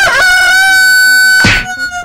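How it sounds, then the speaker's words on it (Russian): A rooster crows loudly and close by at dawn, one long strained cock-a-doodle-doo that ends in a brief sharp burst of sound. "Также естественным будильником для многих служил петух, который всегда кукарекает на рассвете."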